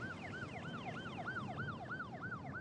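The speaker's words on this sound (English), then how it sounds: "A 2nd ambulance arrived to take Marcia to the hospital." An ambulance siren wails in a steady, repeating rise-and-fall pattern, loud and close, sounding on its own with no talk.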